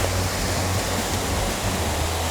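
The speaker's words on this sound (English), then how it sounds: "that wind!" Steady wind roaring and buffeting near a waterfall, a loud, constant broadband rush that runs unbroken through the whole moment, with no voices over it.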